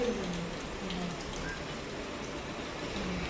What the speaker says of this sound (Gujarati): એકદમ ધીમો થઈ ગયો વરસાદ